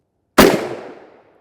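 One sharp, loud gunshot from a 20-inch SKS rifle cracks out of silence and decays into a rolling echo over about a second.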